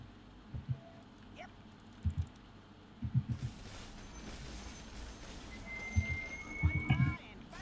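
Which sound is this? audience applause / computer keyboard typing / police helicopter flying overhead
computer keyboard typing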